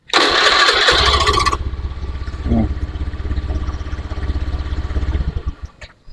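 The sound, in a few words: fuel-injected motorcycle engine starting and idling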